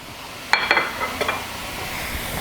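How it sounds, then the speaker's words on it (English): Lean ground beef sizzles in a pot for spicy dirty rice, a steady hiss broken by a few sharp scrapes and clacks of stirring. "let's get things sizzling."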